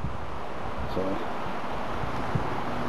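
Wind buffets an outdoor camera microphone at an overnight gear-testing campsite, a steady close rumble and hiss that runs through the whole stretch without easing.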